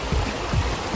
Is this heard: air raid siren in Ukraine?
no